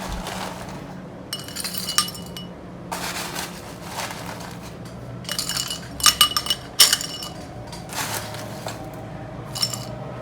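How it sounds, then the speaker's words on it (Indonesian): Ice cubes are dropped into a glass while preparing cendol, giving a series of sharp glassy clinks and rattling knocks in bursts over a quiet kitchen background, with no one speaking. "Masukkan es ke dalam gelas secukupnya."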